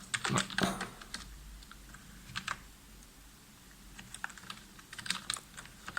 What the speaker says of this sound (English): type various commands